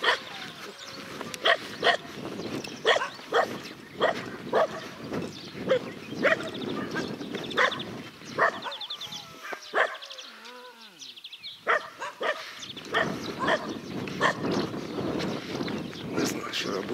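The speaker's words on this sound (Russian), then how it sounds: "Эти псины, блядь, везде." Several dogs bark repeatedly, loud and close, in sharp uneven bursts around a village walk near Zasechnoe, Yulovo, Pankratovka and Znamenskoye, with a church and shop nearby, while someone talks over them.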